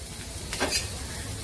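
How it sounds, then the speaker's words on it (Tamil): Fish sizzling in a shallow layer of hot oil over a low flame, with a soft scrape of a spatula midway through the short stretch of steady frying. "கொஞ்சம் எண்ணெய் போட்டால் கூடங்க நம்ம நிதானமாக கொஞ்சம் ஃப்ளேம்ஸை இது பண்ணி போட்டுண்டா மீன் நல்லாவே வறுபட்டுரும்."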